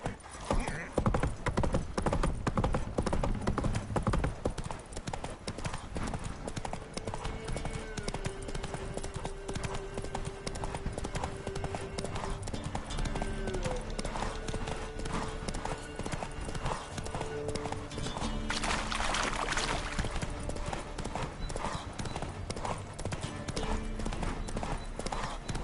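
Roach the horse galloping in The Witcher 3: Wild Hunt, a steady rapid clip-clop of hooves running throughout over game music, with a brief whinny and loud rushing noise partway through.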